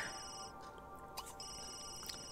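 A ringing phone in The Sims 3 plays as a steady electronic ringtone with repeated tonal bursts, fairly faint and alone, without voices.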